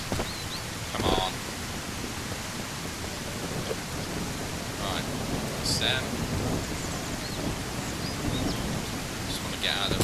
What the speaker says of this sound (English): Just want to get out of the rain.